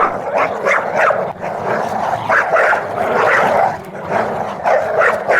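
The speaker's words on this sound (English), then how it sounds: "there were the most awful noises: barking, baying, growls and howls, squealing and groans." Several dogs bark and growl together in a frantic, continuous tangle of snarls and yelps, loud and close.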